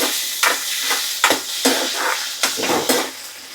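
Garlic tempering being stirred in a pan with mustard seeds, a quick series of scraping, clinking strokes of a spoon against metal over a soft bed of sizzling oil, close and fairly loud.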